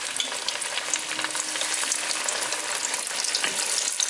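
Halloumi fries bubble and sizzle in hot oil with a dense, steady crackling hiss and tiny pops throughout, close and fairly loud, with no talking.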